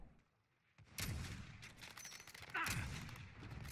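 Bursts of rapid video game gunfire, loud and close, with sharp volleys starting about a second in and another heavy burst later, continuing as a dense fusillade.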